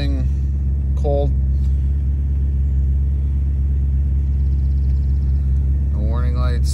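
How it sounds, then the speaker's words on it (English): A 2001 BMW 740i V8 with an aftermarket muffler idles cold. Its deep, even exhaust rumble is heard up close and continuous, and a person speaks briefly over it at the start and end. "Here's a video of it idling. Cold."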